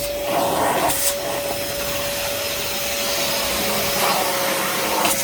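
A low-moisture carpet cleaning machine runs loudly and steadily, with a constant motor whine over a broad hissing roar and a few brief louder bursts of airflow. No one speaks.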